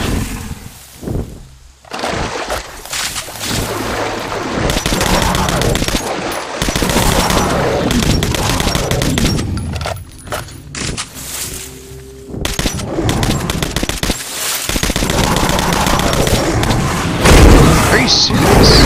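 Gunshots and booming blasts in Metro: Last Night as a player fires at an enemy, loud rapid bursts and heavy thumps with short pauses, mixed with someone talking.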